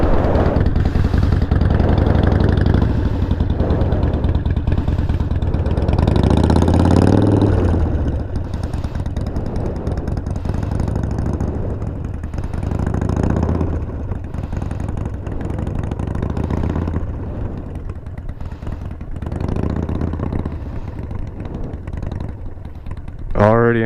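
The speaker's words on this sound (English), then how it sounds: "Boy, that bike sounds beautiful," A motorcycle engine rumbles at idle and revs up and down repeatedly, loud and near, with a voice talking over it now and then.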